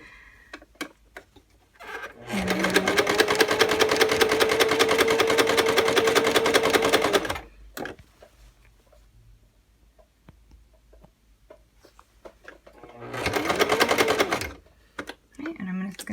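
A sewing machine runs in two sustained bursts while stitching in the ditch along a skirt waistband, giving a steady rapid whirring hum with quiet handling sounds between the runs.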